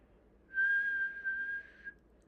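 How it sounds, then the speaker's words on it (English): One person whistles a single steady, fairly high note lasting about a second and a half against a quiet background. "I'm going to try and whistle a loud sound"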